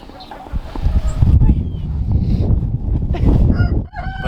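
Homestead chickens in their coop give short squawks and cluck-like calls during bitter polar-vortex cold, close by and loud, over a rough, blustery background rumble.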